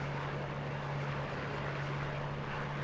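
A P-40 Warhawk's propeller engine in Microsoft Flight Simulator 2020, a steady droning hum with a strong low tone, constant and even throughout with no voices.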